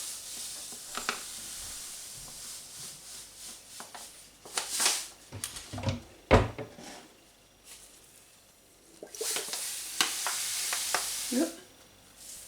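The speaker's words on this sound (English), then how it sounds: "So I'm going to add my sugar now." Sugar poured into water in a pan for homemade orange marmalade, a run of soft, gritty rustling and hissing bursts that come and go, with stirring and a few louder pours close by.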